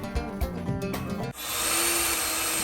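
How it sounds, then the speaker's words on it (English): A power drill bores through a twin turbo vise gear, first a few stuttering bursts and knocks, then a sustained steady whine as the bit runs continuously, close and fairly loud. "I'm drilling out a twin turbo vise gear because it just happens to be the same thickness as the quick release flap"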